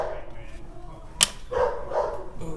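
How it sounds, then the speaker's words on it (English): A dog barks outdoors a short way off, a few short barks near the end, heard over quiet garage background noise while a car's rear differential fluid is being changed. "oh, there's a dog out there."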